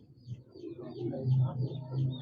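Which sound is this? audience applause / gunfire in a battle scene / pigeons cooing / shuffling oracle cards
pigeons cooing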